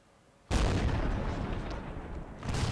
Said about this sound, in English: And I'm taking fire from behind.